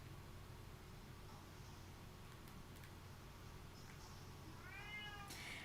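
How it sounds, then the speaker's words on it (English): A cat meows near the end, a short rising call over steady background hiss in an otherwise quiet room. "I hear you, cat, but we're timing something."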